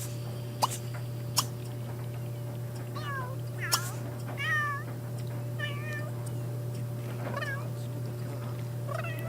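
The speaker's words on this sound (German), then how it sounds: "die Katzen unterhalten sich über Flöhe" Several cats meow in The Sims 3 video game, short rising and falling calls repeated back and forth over a steady low hum, with a few sharp clicks.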